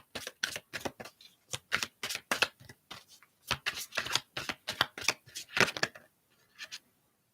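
A tarot card deck is shuffled close up in a long run of quick crisp riffling bursts, regular flapping clusters that pause briefly midway and trail off at the end.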